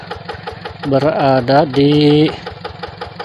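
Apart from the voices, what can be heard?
Yanmar tractor engine running on rice field dike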